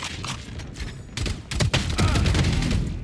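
Phantom rifle gunfire in the game Valorant, heard as rapid, dense bursts of shots with thumping low impacts that grow louder toward the end of the short stretch.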